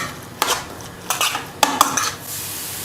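Chicken momo filling mixed in a bowl, a few sharp clinks and scraping stirs in short bursts, fairly close and clear with no talking.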